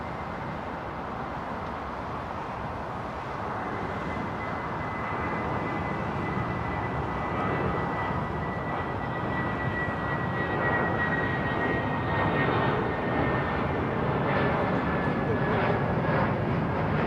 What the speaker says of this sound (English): It's not flies, folks, it's aeroplanes.